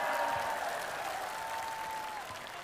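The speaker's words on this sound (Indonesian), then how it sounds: "tepuk tangan dulu buat semuanya" A crowd at the Indonesian Solidarity Party's ninth anniversary celebration applauds. The clapping is loud and dense, holding steady and fading slightly near the end, with a sustained tonal hum running underneath.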